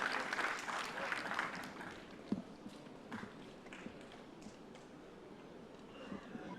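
An audience at a speech on One Nation One Election by a retired justice claps, a loud burst of applause in the first two seconds that thins to scattered claps and faint movement.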